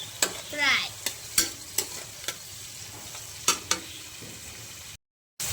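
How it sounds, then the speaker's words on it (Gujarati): Carrots frying in oil in a pan, a low steady sizzle punctuated by a series of sharp spatula taps and scrapes, ending in a brief silence. "ગાજર હાર આવે ને એટલા માટે પહેલાં આને સાતરી દઈશું. આપણે તેલમાં ફ્રાય કરી દઈએ."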